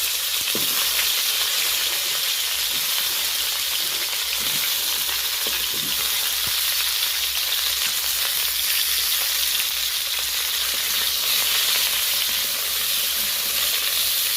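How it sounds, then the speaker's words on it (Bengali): Cauliflower florets fry in hot oil in a pan, a loud, continuous, close-up sizzle and hiss with occasional crackles and stirring sounds throughout. "ফুলকপি তরকারিতে ফুলকপিটা বেশ ভালো করে ভাজতে হয়"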